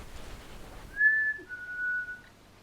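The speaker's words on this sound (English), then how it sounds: "what about a whistle?" Someone whistles two sustained clear notes, the first slightly higher than the second, over faint background hiss.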